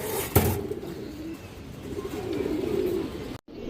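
Pigeons in a loft cooing and shuffling close by, a soft continuous murmur of low coos with a sharp flutter or knock near the start.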